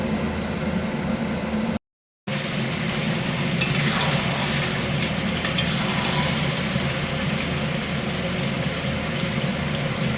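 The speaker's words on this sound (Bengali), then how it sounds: "এই যে মাংস ফুটছে এখন" Chicken meat simmering in a pot, a continuous low bubbling hiss with a steady noisy rumble, broken by a short gap and a few faint clinks.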